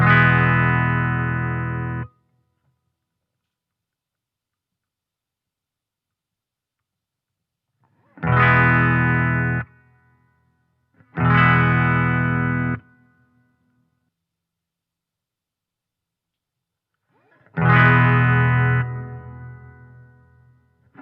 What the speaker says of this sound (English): I'm going to demonstrate this using 2 different kinds of reverbs, a hall reverb and a spring reverb.